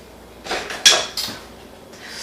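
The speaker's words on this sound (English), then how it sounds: "I should grab a spoon." A spoon is pulled from a kitchen drawer: a short burst of rattling cutlery and a drawer sliding, a few close clinks over about a second, then quiet.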